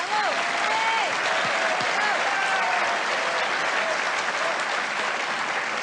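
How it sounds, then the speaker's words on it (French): A studio audience on a French television reality show breaks into dense, sustained applause, steady and full throughout, while a voice speaks over it. "sous les applaudissements du public"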